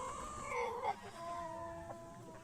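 Chickens clucking in a forest setting, a drawn-out call followed by softer clucks and chatter, faint and somewhat distant over quiet ambience.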